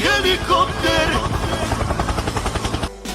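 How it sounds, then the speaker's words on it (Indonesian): A helicopter in flight gives off a continuous loud rotor thump with rhythmic beating, and a voice talks over it until the sound cuts off abruptly near the end. "Sekarang kita bahas bagaimana sih cara helikopter itu bisa terbang."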